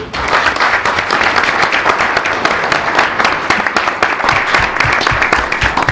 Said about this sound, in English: join me in giving them a round of applause for the work they did.